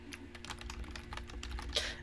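Quick, irregular keystrokes clatter on a computer keyboard, soft and close, with a faint steady hum underneath and no voices.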